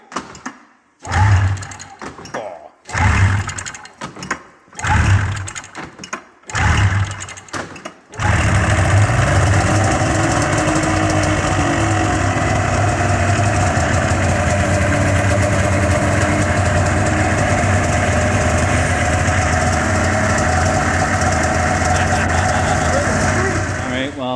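Braaptor turbo snowmobile engine pull-started after a few tugs, then settling into a steady, loud two-stroke idle that drones on without pause.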